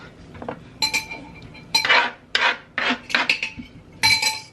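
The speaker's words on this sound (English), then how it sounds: "stir the apples around" A spoon stirs chopped apples in a bowl, giving repeated scraping, rubbing swishes with light clinks against the bowl, several separate strokes close up with no talking.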